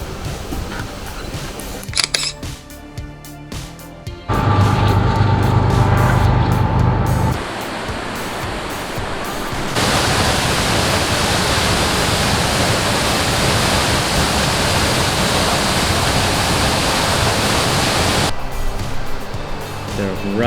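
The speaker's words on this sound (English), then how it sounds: "This is Multnomah Falls, and it's pretty incredible." Multnomah Falls near Portland, Oregon roars as a steady, loud wash of falling water, broken briefly by camera handling noise and a person speaking early on.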